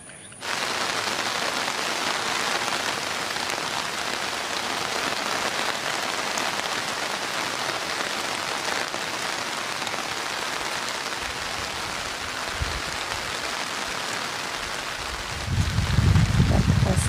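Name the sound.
rain falling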